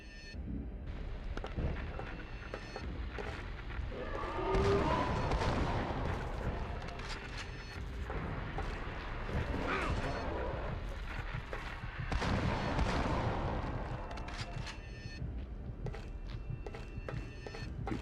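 Shotgun blasts from the Silent Hill: Origins video game, heavy booming reports that recur across a dense, loud game soundscape with layered ambient rumble and effects, no talk.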